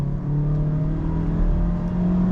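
A 2021 Mazda CX-3 with a 2.0 engine, in sport mode, hums with a steady, sustained engine drone heard from inside the cabin, the revs held high without talk.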